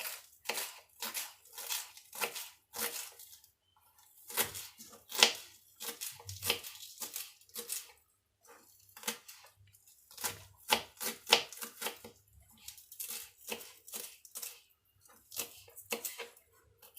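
Celery being chopped for Moroccan harira: a quick, steady series of crisp knife strikes on a cutting board, in bursts with short pauses, close and alone.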